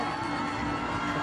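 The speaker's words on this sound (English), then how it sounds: "Cacophony of noise coming from the Colombian crowd." A Colombian home crowd roars continuously at a compound mixed team archery bronze match in Medellin, a dense, steady wall of cheering and shouting that stays loud throughout without a break.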